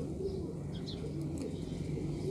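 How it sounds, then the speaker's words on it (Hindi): A male pigeon gives soft, low cooing, faint and close against a quiet background hum. "तो ये नर कबूतर है"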